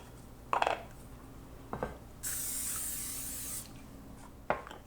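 Cooking spray hisses from an aerosol can into a 9 by 13 baking dish, one steady spray lasting about a second and a half, bracketed by quiet clinks and handling noises in a kitchen.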